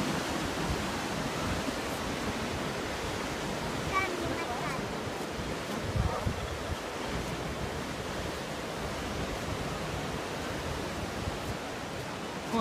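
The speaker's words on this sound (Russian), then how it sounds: "Ох ты, волна накатывает как." Ocean waves roll in at La Jolla Cove as a continuous broad roar of surf, loud and steady with a slight swell near the middle, mixed with wind buffeting the microphone.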